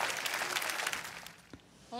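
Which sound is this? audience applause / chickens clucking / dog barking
audience applause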